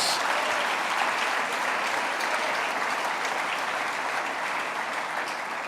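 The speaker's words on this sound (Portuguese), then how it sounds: "Pode aplaudir porque é verdade" Sustained applause from an audience at a praise and worship conference, a dense, even roar of many clapping hands holding steady throughout.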